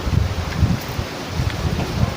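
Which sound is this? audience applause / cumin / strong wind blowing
strong wind blowing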